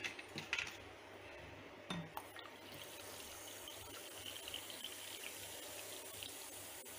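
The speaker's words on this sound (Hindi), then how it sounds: "और इसमें अब" Soda pours steadily into a glass holding a pineapple-crush mocktail, a close fizzing, splashing rush lasting several seconds after a few opening clinks of glass.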